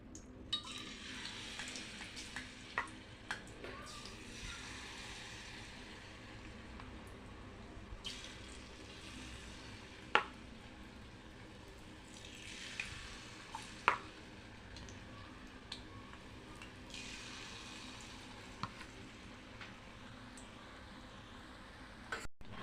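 Idli batter, tinted with beetroot, frying into honey candy (thaen mittai) in hot oil: a steady, faint sizzle runs throughout, with occasional soft clicks and taps from utensils and no talking.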